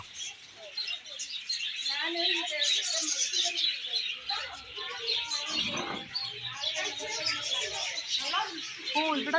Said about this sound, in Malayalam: ഇവിടെ ലവ് ബേർഡ്സിൻ്റെ ഒരു ഇതുണ്ട് പ്ലേ ഹോം നിറയെ പക്ഷികൾ ചെറിയ പല കളറിലുള്ള തത്തകൾ